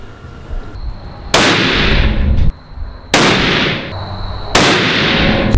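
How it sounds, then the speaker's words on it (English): Three loud, close rifle shots from a .300 Win Mag, each a sharp blast with a long echoing decay, spaced a little over a second apart with quiet gaps between. "shooting my rifle"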